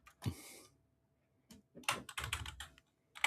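A few short bursts of keyboard clicks, close by, separated by brief silences.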